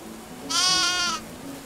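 A sheep in the medieval life-simulation game Medieval Dynasty gives one loud, wavering bleat lasting under a second, clear over faint background ambience.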